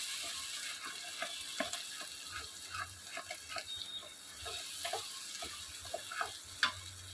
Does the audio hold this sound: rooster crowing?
no